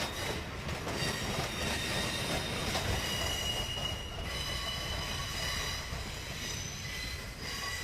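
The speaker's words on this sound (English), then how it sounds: "As the train rolls out of Big 60, it passes through the remains of Tunnel 22." A train rolls along rails past the remains of Tunnel 22, a continuous loud rumble of wheels with high metallic squeals and ringing running through it, steady from start to finish.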